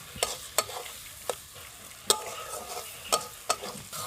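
Masala with chili powder being stirred and sautéed in a pan, a soft sizzle under a handful of sharp scraping strokes of a spoon, close and fairly quiet, no voices.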